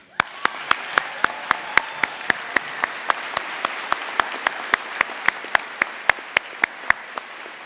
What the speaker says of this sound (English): Help me to celebrate them for a few seconds with some applause